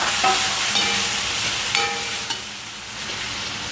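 Chopped tomatoes sizzle and fry in a pan while being stirred, with a bright steady crackle and a few scraping stirs of the utensil, close and alone without talk.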